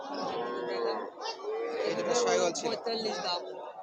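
Sahiwal and local-breed cattle, including bulls and heifer calves, lowing and mooing up close at a busy market, mixed with overlapping human chatter in the background.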